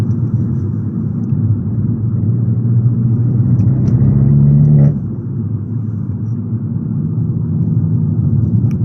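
An Abarth with a Toyosports stainless steel exhaust drives along at a loud, steady drone; the engine note climbs, then drops sharply near the middle as the revs fall, and settles into a lower, even hum. No one speaks.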